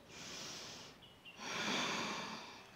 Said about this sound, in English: Reach through your chest, take a breath in.